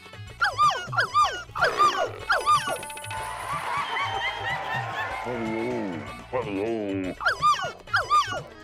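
A man imitates a dog, producing thin, puppy-like yips and whimpering barks in short bursts, with stretches of other voices talking in between.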